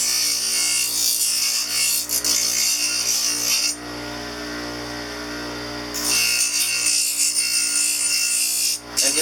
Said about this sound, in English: So what I'm doing with this large stone is just the shaping and the thinning.